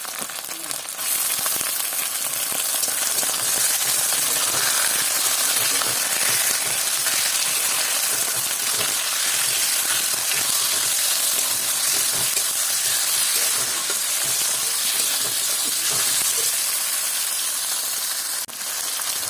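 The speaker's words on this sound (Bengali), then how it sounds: "এবার জাস্ট আমি দিয়ে দিচ্ছি আমার চিকেনটা" Chicken sizzles loudly and steadily in a hot pan for a coconut chicken dish, a dense close hiss that holds constant with faint stirring scrapes and no talk.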